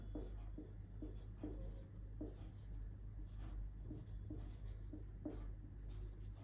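Chalk or marker scratching across a board in short strokes and taps, faint and steady over a constant low electrical hum, with no one talking.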